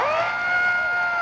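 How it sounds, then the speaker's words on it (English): A rally crowd at a public-employee union event in Olympia, Washington, cheers and whoops loudly and continuously in a short burst, with shrill sustained yells riding on top of the roar. "Can we get a big cheer for the DOT workers and the AFSCME workers that are keeping us safe"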